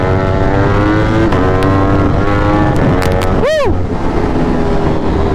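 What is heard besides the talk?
motorcycle riding on road in cold weather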